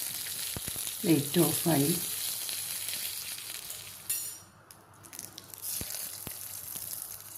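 Dried red chillies and curry leaves sizzle in hot oil for a tempering, poured over a thick ash gourd and coconut curry; a loud crackling burst dies down to a softer hiss while a voice speaks briefly.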